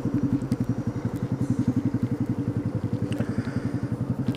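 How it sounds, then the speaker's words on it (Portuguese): Motorcycle engine riding through city traffic, a steady rapid rhythmic throb close up and loud throughout, with faint clatter from the road around it and no talk. "Graças a Deus eu estou de moto"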